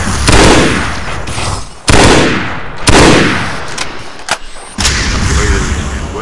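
Bursts of needler fire in Halo SPV3 crackle in several sharp volleys separated by brief gaps, loud and close, with a few smaller pops between them.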